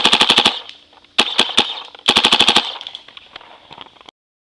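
A Proto SLG paintball gun fires rapid bursts of sharp, close popping shots, three fast strings with short pauses between them and a few single shots trailing off at the end.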